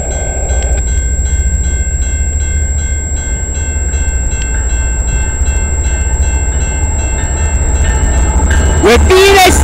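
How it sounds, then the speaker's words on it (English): A CN eastbound freight train rolls past close by at a rail line in London, Ontario, a loud steady rumble with faint wheel clicks throughout and a brief burst of noise at the end. "we got a CN eastbound coming"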